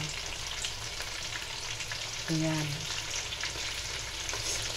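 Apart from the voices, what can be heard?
frying food in a pan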